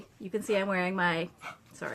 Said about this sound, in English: That's my dog saying hi